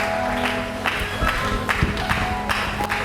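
A church congregation applauding during a sermon: a crowd of hands clapping in a loose, continuous patter, fairly loud and close.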